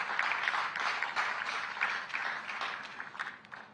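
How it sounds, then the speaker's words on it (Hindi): Audience applause at a public event in Panchkula where Haryana's chief minister inaugurated development projects: a steady, fairly faint wash of many hands clapping for nearly four seconds, thinning slightly toward the end. "तालियां आप सबकी तरफ से होनी चाहिए"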